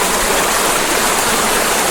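A waterfall beside an underground culvert gives a loud, steady, dense rush of falling water, close by and constant throughout.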